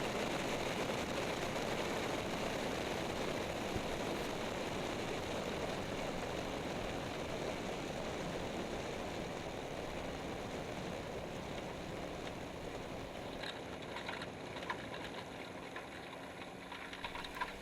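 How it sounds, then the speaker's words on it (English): A de Havilland Beaver on skis touches down gently on snow near trees, a steady broadband rush of engine and airflow holding loud and constant throughout with no talk. "A nice, smooth, gentle touchdown to make sure that the snow isn't too deep."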